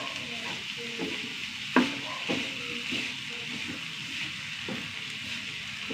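Oats tipped into a pan of sizzling vegetables for upma and stirred. A steady, close frying hiss runs throughout, broken by spoon scrapes and knocks, with one sharper clack early on.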